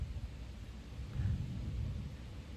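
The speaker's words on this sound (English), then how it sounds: "I don't know if you just heard that rumble." Distant thunder rolling in over a mountain trail before a storm, a faint low rumble that swells softly midway through and fades out, with no talking.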